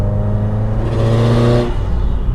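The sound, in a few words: 2015 Subaru WRX STI engine revving at 3,000 RPM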